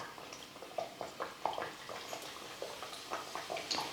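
Pieces of cut wheat flour snack dough dropped one by one into hot frying oil, each landing with a soft splash followed by light sizzling and bubbling, several drops spaced across a few seconds.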